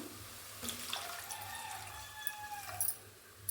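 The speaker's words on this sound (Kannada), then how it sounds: "ಇವಾಗ ಇದಕ್ಕೆ 1 ಗ್ಲಾಸ್ ನೀರು ಹಾಕ್ಕೊಳ್ತೀನಿ." A gentle stream of water, one glass, pours and trickles into a pan close by, fairly quiet, with faint background tones and a small splash at the end.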